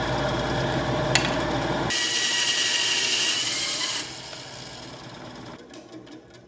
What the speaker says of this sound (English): gotta cut those chamfers. See, the bandsaw is gonna cooperate today.